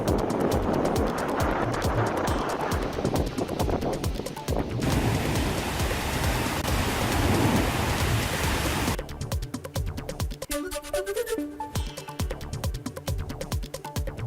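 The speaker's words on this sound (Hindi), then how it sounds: "तेज हवाओं के साथ हो रही है बारिश।" Rain comes down with strong winds from Cyclone Asani on the coast of Kakinada district, Andhra Pradesh, making a dense, steady roar of water and gusts throughout. The noise shifts partway through to a harsher, choppier texture.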